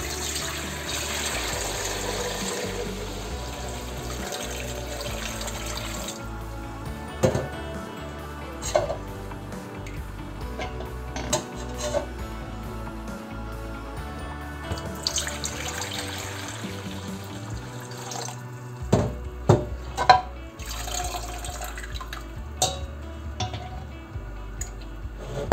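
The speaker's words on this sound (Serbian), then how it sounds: "Sada možemo da procedimo ovu vodu u kojoj nam se ova butkica kuvala." Water from boiling a chicken drumstick is strained in a kitchen sink, giving a soft pouring trickle with a few sharper splashes and clunks, heard under a steady musical background.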